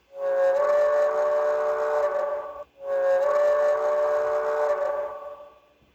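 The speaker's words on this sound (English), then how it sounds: "So if you hit C, you could have the steam whistle." Two long, loud steam whistle blasts, each about two and a half seconds, with a brief gap between them and no other sound.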